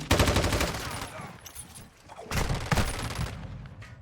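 Dense, rapid gunfire rattles in bursts in Call of Duty, with a brief lull midway before the shooting surges again, loud and close.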